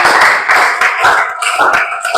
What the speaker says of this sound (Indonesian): Iya, tepuk tangan buat Nurul.